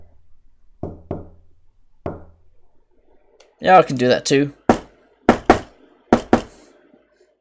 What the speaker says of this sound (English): Someone was clearly knocking on his door.